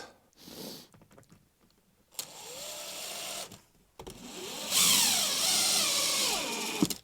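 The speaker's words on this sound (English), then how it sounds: "all we need to do is just screw straight into that" Power drill driving screws into the track of a sliding mirrored wardrobe door, heard as two bursts of close whirring motor, the second longer and rising in pitch as the screw tightens, with brief handling noise between.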